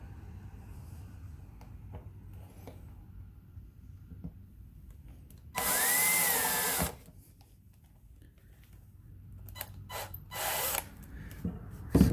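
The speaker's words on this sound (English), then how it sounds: "Now I'll get a 1/4 inch drill bit and drill that hole out." A power drill spins up for about a second of loud, close whirring, bores a quarter-inch hole for a bow mount on an Old Town boat, then gives a couple of shorter bursts amid quiet handling noises.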